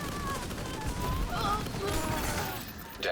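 Pistol fire in a sci-fi video game mixed with dense electronic game sounds, warbling tones and a steady background roar, with talk underneath throughout.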